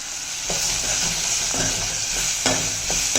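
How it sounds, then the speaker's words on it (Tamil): Bitter gourd sautéing with salt in a pan, a steady close sizzle broken by a few scraping stirs of a spatula, with no voices. "இது நல்லா வதங்கட்டும் வதங்க மூடி வச்சு நல்லா வேக வச்சு எடுத்துக்கலாம்"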